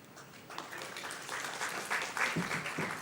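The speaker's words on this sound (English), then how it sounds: "a round of applause for Tejasvi Jain" Audience applause at an art programme launch event at Kempegowda International Airport in Bengaluru, a dense wash of clapping that swells and stays lively throughout the short burst, with no one talking over it.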